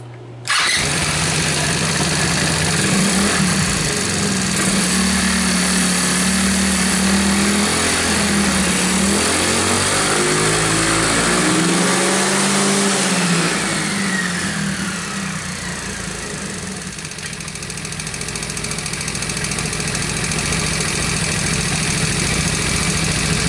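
A small engine fitted with a PWK carburetor starts and idles roughly, with throttle blips that rise and fall in pitch as the throttle response is tested, loud and close throughout.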